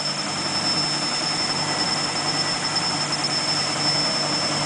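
A Privileg Öko 4082 washing machine motor runs with a steady, loud hum droning continuously and a high whine on top, no voices.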